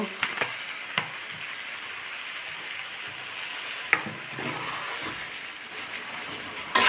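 A little water splashes into a pan of frying new potatoes and flat beans for a vegetarian chorchori, giving a continuous close sizzle with scattered sharp ticks and pops, and a louder burst at the end.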